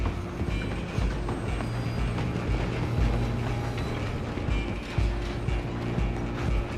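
Steam train rolling along the tracks in the Red Dead Redemption 2 video game, with a rumbling mechanical clatter and creaking wagons, plus a steady low hum, close and continuous throughout.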